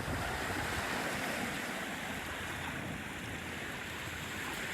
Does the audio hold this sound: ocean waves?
yes